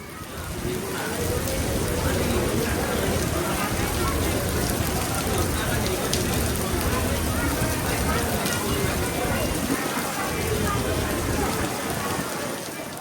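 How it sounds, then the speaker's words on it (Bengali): Steady, dense hiss of heavy rain and wind pouring down during a storm at the Barishal launch terminal in Bangladesh, with a constant roar, gusty and unbroken throughout, with no pauses. "যে পরিমাণ বৃষ্টি এবং বাতাস রয়েছে"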